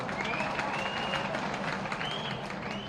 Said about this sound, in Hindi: और इसमें तो जोर से ताली बजाओ ना